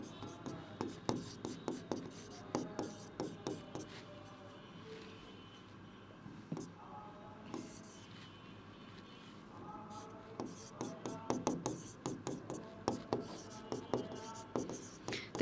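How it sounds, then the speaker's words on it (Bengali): Pen or marker writing on a board in a chemistry lesson, quick scratchy strokes in bursts with a short pause midway, moderately close and fairly quiet, no talk over it. "দেখো গ্লিসারিনের সংকেতটা যদি আমি একটু লিখি"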